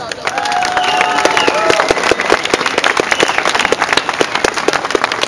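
A crowd applauds participants of a Latvian strength day event, dense clapping and cheering that swells quickly and stays loud and close, with whistles and shouts mixed in.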